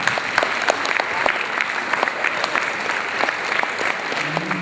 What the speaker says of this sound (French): j'aimerais que vous les applaudissiez